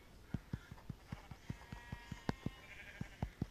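Sheep bleating in a video game, a steady run of short, evenly spaced bleats with a few louder calls among them, close and clear with no talk over them.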